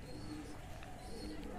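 Pigeons returning to their loft in the morning coo softly in the background while a person talks over them, the low murmuring calls faint and partly masked by the speech.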